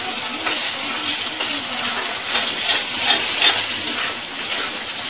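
Hilsa fish being stirred into fried spice paste in a pan, a loud continuous hiss and sizzle with several soft scraping strokes of the spoon, close up and without talk.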